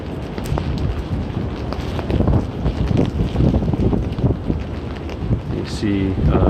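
Strong winter storm wind gusts through a New York City street during Winter Storm Harold, roaring steadily and close into the microphone with rain mixed in and a few brief knocks near the end.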